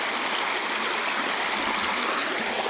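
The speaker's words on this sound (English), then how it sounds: "We need to find a way across the creek." A mountain creek rushing over rocks, a continuous bright hiss of flowing water, close and steady, with no one talking.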